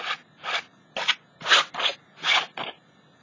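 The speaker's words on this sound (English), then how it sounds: "So, because I'm scraping it, I'm going to have to clean it off before I put it back in my gesso jar" Gesso scraped off a painting surface with a tool, seven rhythmic rasping strokes about half a second apart, close and clear with no talking.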